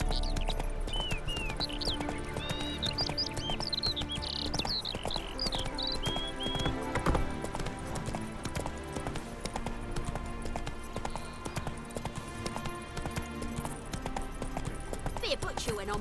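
Horse hooves clip-clopping at a steady gallop in The Witcher 3: Wild Hunt, rhythmic thuds running throughout over game music and ambient tones, with a voice briefly urging the mount on.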